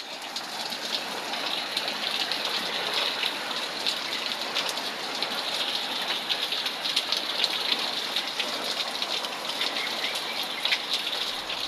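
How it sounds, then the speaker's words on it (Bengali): A heavy downpour falls as a steady, dense hiss of rain throughout, with no talking. "বৃষ্টি যখনই শুরু হচ্ছে তখন মুসলধারে বৃষ্টিটা হচ্ছে"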